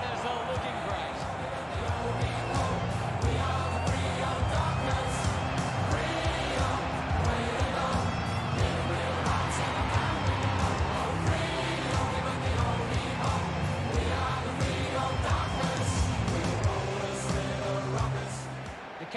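Stadium crowd noise at an Australian football match, Fremantle versus Richmond, as players run onto the ground, a steady roar with scattered cheers beneath continuous commentary.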